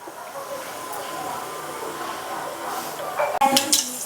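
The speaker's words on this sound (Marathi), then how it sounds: "पहिले मोहरी चांगली तडतडू द्यायची" Mustard seeds splutter in hot oil while tempering for a dry cluster bean dish, a faint, steady crackle that turns into a brief, louder clatter near the end.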